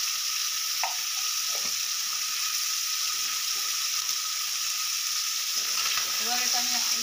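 Spiced fish curry of small mourola fish sizzles in a pan with turmeric and cumin as it is gently stirred, a constant close frying hiss with occasional soft scrapes.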